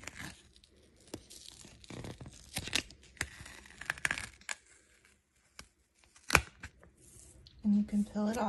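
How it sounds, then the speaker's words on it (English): A printed paper sticker cut on a Cricut machine is peeled from its backing: quiet, scattered crackling rips and soft taps in short bursts, with pauses between them. "you can peel it off just like that, and it's a sticker"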